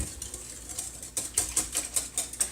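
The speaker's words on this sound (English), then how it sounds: "I like to use a whisk to incorporate everything" A whisk beats Greek yogurt into an egg muffin mixture in a bowl, with quick rhythmic clicking strokes, close and moderately loud, getting steadier toward the end.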